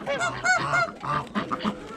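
A goose at a small home zoo honks repeatedly, loud and close, in a rapid series of harsh nasal calls with no talking.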